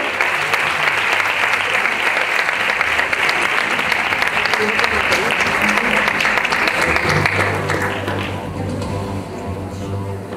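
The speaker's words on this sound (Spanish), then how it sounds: "Un aplauso, por favor." Audience applause at the Miss Grand Spain gala final, a loud, sustained wash of clapping across a large crowd that holds steady for most of the stretch before fading as a voice begins speaking near the end.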